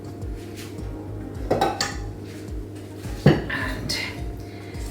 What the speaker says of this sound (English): Scrape all this down.